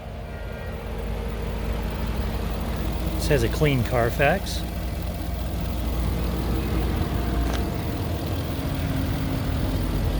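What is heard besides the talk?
2019 Bentley Bentayga V8 engine running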